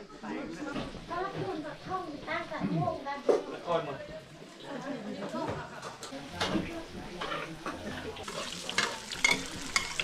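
Breakfast frying and being stirred in the kitchen of a treehouse camp in Laos, steady sizzling with scraping stir strokes, heard close under ongoing conversation and laughter.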